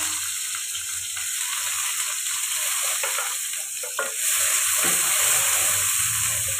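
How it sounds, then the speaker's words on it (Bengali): Mixed vegetables with bitter gourd frying in a pan, a steady loud sizzle with occasional stirring scrapes, growing brighter and hissier toward the end. "তো সবজিগুলো আগে আমি ভেজে নিই"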